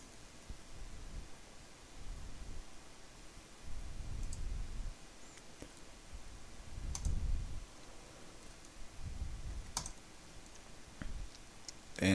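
Faint computer mouse clicks, a few sharp isolated taps spread over about twelve seconds against a quiet background hiss with soft low rustling.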